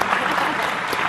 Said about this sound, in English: I think we can give a round of applause